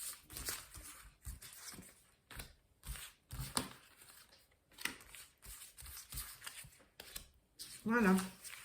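Tarot cards are shuffled for a nine-card spread, giving soft repeated riffles and taps at close range, with a brief voice toward the end.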